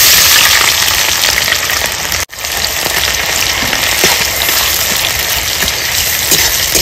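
Chopped onions dropped into hot oil already fragrant with whole cumin and garam masala for a village-style mutton curry, giving a loud, steady broadband sizzle with one brief dip in the middle.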